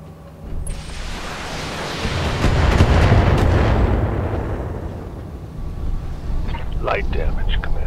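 Weapons fire and explosions in the video game BattleTech, a heavy, rumbling blast that swells and rolls on for several seconds, loud and close, with a voice heard over it.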